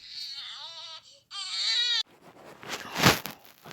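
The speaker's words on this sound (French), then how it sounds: "Un bébé qui pleure" An infant crying in a bathroom at night, two rising wailing sobs that break off abruptly, followed by a muffled, noisier whimpering burst, heard fairly close with no talking.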